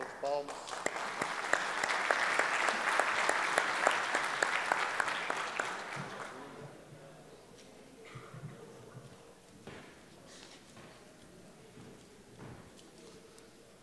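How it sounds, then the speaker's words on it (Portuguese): Audience applause at a Brazilian road-maintenance conference swells loudly for about six seconds, then fades into scattered claps and faint room murmur. "Uma salva de palmas."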